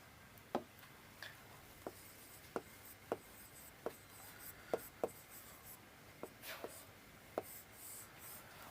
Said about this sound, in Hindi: एक तरफ मैं यहां पर लिख रहा हूं अध्यक्ष